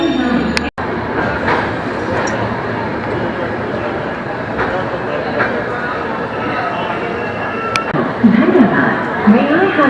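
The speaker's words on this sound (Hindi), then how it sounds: "8:40 पे निकली है ट्रेन।" Jammu Rajdhani Express train rolling along the tracks, heard from inside the coach as a continuous rumbling roar with occasional clanks, while passengers chat over it.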